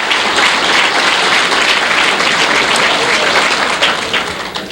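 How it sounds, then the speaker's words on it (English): Loud, dense round of applause from an audience at a retirement event, steady for nearly five seconds and tapering slightly at the end. "Let's give a nice round of applause."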